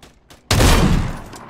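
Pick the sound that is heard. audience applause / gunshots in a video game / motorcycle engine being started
gunshots in a video game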